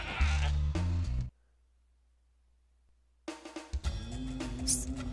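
In Spyro 2: Ripto's Rage, a goat bleats loudly in two bursts, followed by a silent gap and then more game sound and bleating with music.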